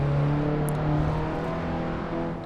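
A 9th-generation Honda Civic Si coupe in Assetto Corsa pulling uphill, its engine holding a steady sustained drone with a slight whine, continuous and fairly loud with no one speaking.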